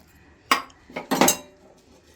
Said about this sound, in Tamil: இப்போ ஃபஸ்ட்டு ஒரு டம்ளர் ஊற்றி நல்லா கரைச்சிக்கலாம்